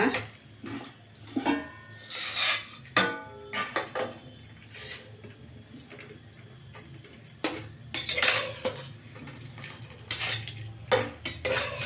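Cooked horse gram is lifted from a pressure cooker onto a plate, with repeated clinks and scrapes of a metal spoon on cookware, close by, while a person speaks in between.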